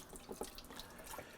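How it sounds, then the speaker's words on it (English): Filtered tap water runs steadily into a sink while vegetables are rinsed, a continuous close splashing wash with small irregular splashes and no talk. "I'm using filtered water to wash the veggies."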